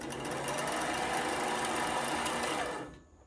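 An industrial sewing machine, a Rex 607z class such as a Reliable Barracuda, Tuffsew or Consew, winds a bobbin with a steady, loud, dense whir that holds for nearly three seconds and then cuts off.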